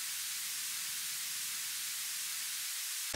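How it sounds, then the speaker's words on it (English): Steady, bright white noise hisses evenly for a few seconds, heavy in the high end, then cuts off abruptly. "Might be kind of hard to hear, but it's just white noise"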